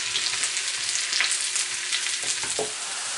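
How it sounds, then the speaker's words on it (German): Mushrooms fry in butter in a pan with a steady bright sizzle and a few stirring clicks and scrapes, close and continuous with no talking. "die röste ich jetzt in der Pfanne in etwas Butter an"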